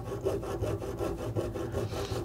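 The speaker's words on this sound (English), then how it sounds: "I'm going to saw right up against the miter vise." A jewelry saw cuts through wire held in a miter vise, a steady close rasping stroke repeating back and forth in even rhythm throughout.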